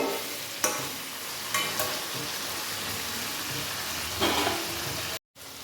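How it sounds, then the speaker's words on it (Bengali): Boal fish pieces fry in hot oil with spices, a steady dense sizzle broken by a few louder bursts as the fish is turned in the pan, close up and with no voices. "এবার আমি মাছগুলোকে দিয়ে দেবো মাছগুলোকে একটু মশলার সাথে এপিটোপিট করে দেবো"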